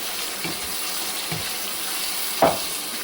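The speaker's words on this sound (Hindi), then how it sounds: "5 मिनट के लिए हम चिकन को अच्छे से भून लेंगे" Marinated chicken frying with softened onions in a pan over medium heat, a steady low sizzle throughout with a few soft stirring scrapes and one sharper clatter near the end, no talk.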